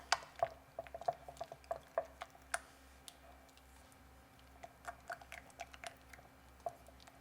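Chocolate being stirred into a chilled cheesecake truffle mixture, with soft sticky clicks and wet dabbing sounds recurring irregularly, quiet and close, no voices.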